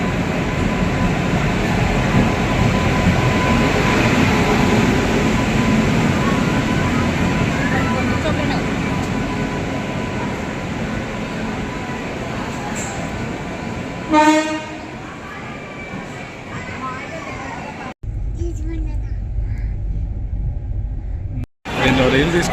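A train rumbles at Yesvantpur railway station, a long steady roar of rolling carriages with a brief horn toot partway through, then a sudden drop to quieter platform ambience and broken noise near the end.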